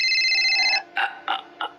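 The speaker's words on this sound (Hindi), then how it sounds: "कि उसका मोबाइल बज उठा।" A mobile phone rings with a steady electronic tone, then gives way to a few short bright bursts, close and fairly loud with no talk.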